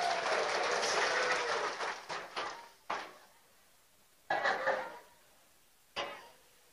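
Crowd applause at a religious sermon, a dense wash of clapping that fades within a few seconds, followed by a few separate louder bursts.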